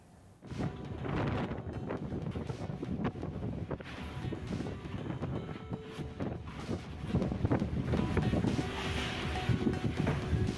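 Strong gusting wind roars and buffets the microphone through a heavy rainstorm in Bogor, West Java, where the wind toppled trees; the noise is loud and steady, swelling louder toward the end.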